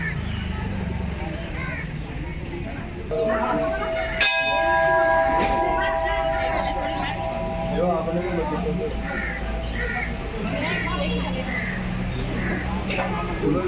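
Temple bells at Tilinga Mandir ring out in clear, sustained metallic strikes over a busy crowd background, with people talking nearby throughout.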